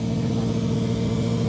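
A Honda Goldwing motorcycle engine idles steadily nearby, a smooth continuous low rumble with no revving and no talk.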